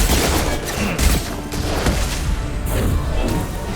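Sustained gunfire in the video game Mass Effect 2 during a firefight on Illium, dense overlapping shots and impacts rolling continuously and loudly throughout with no clear gaps.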